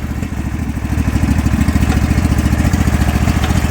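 A rebuilt Craftsman Crusher small engine runs nearby, a loud, rapid, even chugging that firms up and steadies after the first second.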